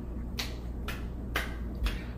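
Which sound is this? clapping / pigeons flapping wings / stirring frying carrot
clapping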